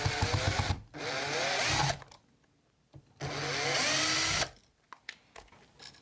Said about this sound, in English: We'll use a power drill to remove the device.